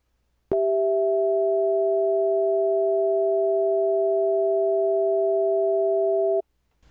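Two pure sine tones start abruptly together and hold steady and loud for about six seconds before stopping cleanly, with nothing else heard.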